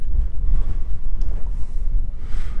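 Strong wind buffets the microphone at a windy coastal overlook above blue water, a loud continuous low rumble with gusty swells and no speech.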